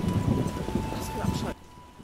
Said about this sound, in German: Es regnet ziemlich heftig.